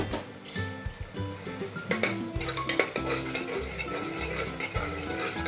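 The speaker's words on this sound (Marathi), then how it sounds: "कांदा लसूण मसाला घातला आहे दोन चमचे गोडा मसाला घातला आहे एक चमचा एक दीड चमचा आणि हळद घातल्या आणि हे सगळं परतून घ्यायचं आपल्याला चांगलं" Onion-garlic masala, goda masala and turmeric being stirred and sautéed in a pan, with a spoon scraping and clinking against the metal over a light sizzle, in uneven close strokes.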